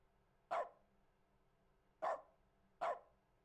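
A dog barking in dog mode in The Stanley Parable video game, three short, sharp barks spaced apart against near-silence.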